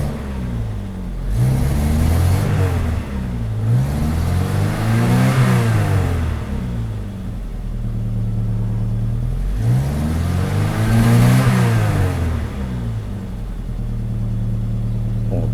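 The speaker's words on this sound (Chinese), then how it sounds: "排气管破掉，好吵！" A Mercedes W123 230TE with a broken, loud exhaust revs repeatedly close by, its engine note rising and falling in two long sweeps over a steady, rough idle.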